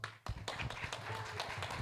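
Audience applause at a venture capital panel event, a dense burst of clapping that starts sharply after a brief quiet moment and continues steadily at full strength to the end.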